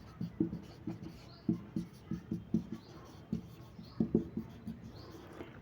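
Pen writing out a class 10 maths solution on paper, a quiet close series of irregular scratchy strokes and taps in short clusters.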